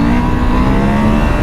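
Husqvarna Norden 901 motorcycle engine revving under throttle during a test ride, a steady, loud, continuous mid-pitched engine drone with a constant hum and no voices.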